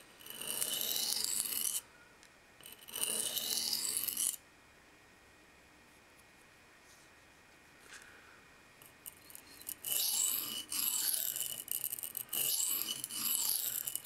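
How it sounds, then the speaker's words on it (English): A folding knife blade slides across a sharpening stone in close, loud, rhythmic rasping strokes. Two runs of passes are split by a quieter pause. "you'll notice I'm not lifting up the blade after each pass. I'm just letting it rest on the stone."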